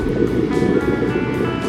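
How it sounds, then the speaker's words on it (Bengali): Waves lapping on the shore of a hillside lake near Ankara, a short steady low wash of water with some wind rumble on the microphone. "এই পানির ঢেউয়ের শব্দ শুনতে আসলেই অসাধারণ লাগছে।"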